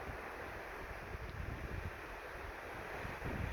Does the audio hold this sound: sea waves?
yes